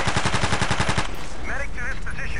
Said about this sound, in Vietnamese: giật được súng máy của kẻ thù bắn xuống rồi.